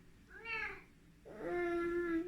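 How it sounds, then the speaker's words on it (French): A kitten gives two clear meows close by, the first short and rising, the second longer and drawn out, against a quiet background. "il y a bébé chat là"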